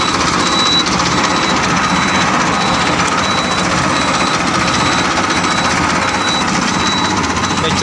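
A 1994 Ford 3600 tractor fitted with power steering runs with a continuous, loud, even engine drone and rapid mechanical chatter, close by and steady throughout with no pauses.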